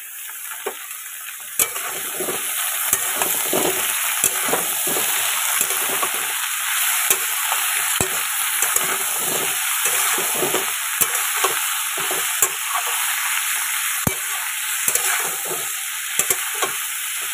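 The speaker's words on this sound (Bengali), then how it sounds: "কেটে এখন আমি সবজি ভেজে নিচ্ছি" Loud, steady sizzling of vegetables frying in a pan, with a spatula repeatedly scraping and stirring in an irregular rhythm throughout.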